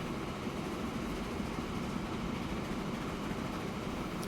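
A model railway train runs along a single-track layout, giving a steady, continuous rumble and rattle of wheels on rails that stays even and close throughout, with no talk.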